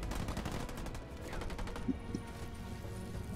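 Sniper fire in the real-time strategy game Halo Wars 2, heard as dense battle gunfire with a single sharper shot standing out near the middle, with no voices over it.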